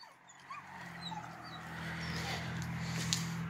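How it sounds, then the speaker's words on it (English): A dog chained up outside whimpers in soft, high, thin cries over a constant outdoor background hum, faint and somewhat distant, with no one speaking. "That dog is chained up outside."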